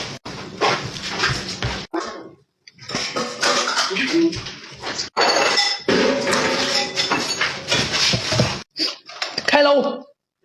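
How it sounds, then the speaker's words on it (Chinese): Noodles tossed with chili oil in a bowl, with clinking and scraping of utensils against dishes in short bursts separated by brief silences. "搅拌均匀。"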